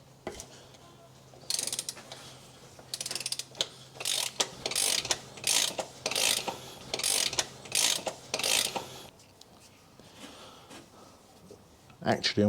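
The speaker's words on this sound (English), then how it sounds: "So I'm going to use what I've got to hand, which is a ratchet and a socket, if it'll fit in there." A ratchet and socket loosen a bolt on a 2008 VW Fox 1.2 petrol engine, giving bursts of close, sharp ratcheting clicks repeated in a rhythmic series, with a brief pause and a short final burst.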